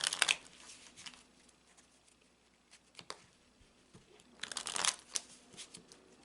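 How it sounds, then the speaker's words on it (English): Petit Etteilla tarot cards are shuffled by hand in soft, quiet bursts of papery riffling and patter, separated by brief pauses, with no voice. "the first thing we want to do is we want to shuffle the cards."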